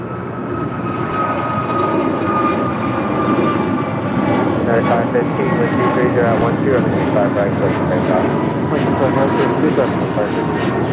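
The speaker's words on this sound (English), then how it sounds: "Our next departure here on the south side, American Airlines flight 2725, heading to Reagan National on an A321neo." An American Airlines Airbus A321neo departs, its loud continuous jet engine roar holding steady throughout with shifting whine tones as it climbs away, while a voice speaks over it.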